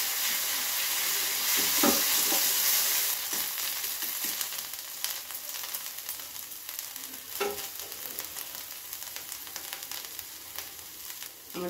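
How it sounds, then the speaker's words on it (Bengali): Onion and garlic paste fries in a pan for a fish-and-okra curry, giving a loud steady sizzle with a few sharp bursts as it is stirred, alone without talk. "একটু রসুন বাটা আর পেঁয়াজ বাটাটা ভালো করে ভেজে নেবো।"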